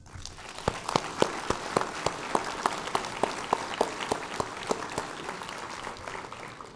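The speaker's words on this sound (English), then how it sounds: "So let's give them all a round of applause." Audience applause at a 2016 charter school commencement ceremony fills the hall as a broad, steady wash of many hands clapping, with distinct louder individual claps punctuating it in a near-regular rhythm throughout.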